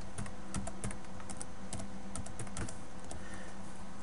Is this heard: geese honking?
no